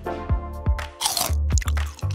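Crunchy food is bitten and chewed up close in a rapid series of loud crackling crunches, with wet squishy mouth sounds between bites and no talk.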